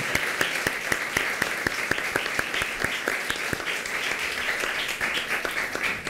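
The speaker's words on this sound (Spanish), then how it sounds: "Vamos a darle un gran aplauso a Dios" A church congregation applauds during a Mass marking the Radio Natividad station, a steady roar of clapping with a few sharp, close claps standing out in an irregular rhythm throughout.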